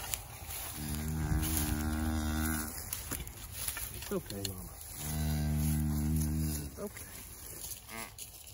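A mother cow on a ranch where calves are being caught and tagged gives two long, deep, loud moos separated by a short gap, with faint background noise between them.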